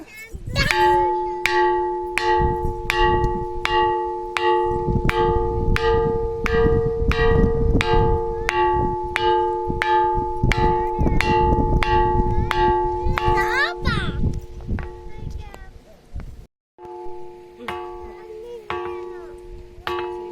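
A bell rock in Ranipet, Tamil Nadu, struck repeatedly in a quick steady rhythm, rings out with clear, sustained bell-like tones, while children's voices chatter in the background.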